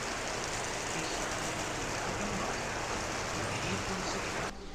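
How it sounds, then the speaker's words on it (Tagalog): Heavy typhoon rain pours steadily during a signal number 3 storm in Calabarzon, a dense, loud, unbroken hiss that drops off suddenly at the end. "Ayan na, ulan ulit."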